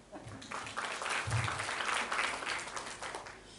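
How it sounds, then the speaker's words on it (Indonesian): Congregation applauding inside a church, a steady, dense patter of many hands clapping at moderate loudness for a few seconds without a break. "Tepuk tangan dulu."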